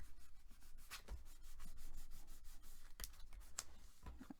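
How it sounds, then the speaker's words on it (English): Paper on a craft folio is burnished by hand, producing a soft, steady rubbing and scraping with short repeated strokes, close and quiet, and no voices. "Go ahead and burnish that."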